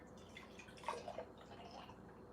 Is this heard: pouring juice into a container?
yes